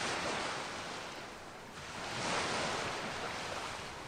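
Waves crashing hard against a shipwreck on a Skyrim coastline, a steady wash of surf and wind that swells and recedes, loud and continuous with no voices.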